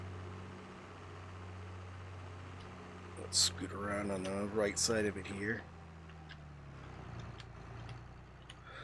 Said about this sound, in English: The engine sounds are so much nicer, and I never really thought about them in the old game